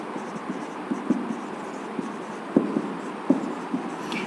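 Chalk or marker scratching across a board in a biology class, a series of short, soft strokes and taps with brief pauses between them, close and faint over a quiet room hum.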